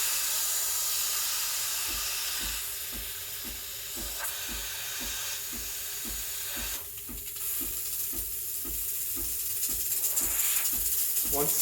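A Breville Barista Express steam wand hissing steadily and loudly at close range, with a regular ticking pulse from the machine running underneath throughout.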